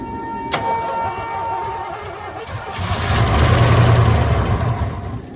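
A 1983 Hurst Olds 15th anniversary car, parked since 2002, cranks and catches, its V8 engine starting with a loud burst that settles into a rough, rumbling idle close by.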